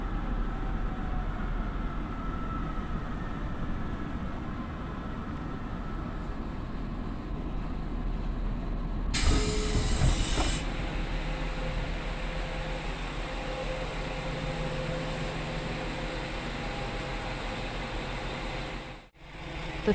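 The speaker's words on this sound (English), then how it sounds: "The rapid train bound for Tosu will soon arrive at Haruta Station." A rapid train bound for Tosu pulls into Haruta Station with a steady rumbling roar throughout and a brief burst of sharper hiss midway, with no talk.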